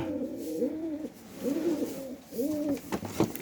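An unpaired female pigeon gives three close, soft rolling coos separated by short pauses, with faint rustling at the end.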